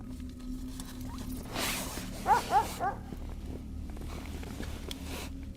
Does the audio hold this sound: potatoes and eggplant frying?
no